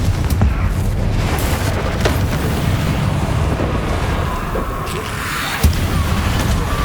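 Explosive spells cast in combat in the video game Hogwarts Legacy, a dense rumbling roar of booms and blasts layered continuously and loud throughout, with a sharper hit near the end.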